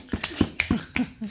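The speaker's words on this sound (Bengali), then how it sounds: "হাততালি দাও নিজের জন্য" A young girl claps her hands for herself, about six quick light claps in an uneven rhythm, close and fairly soft.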